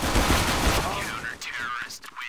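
Gunfire in the video game Counter-Strike on the map de_cobblestone, a quick burst of shots at the start that fades into softer game effects.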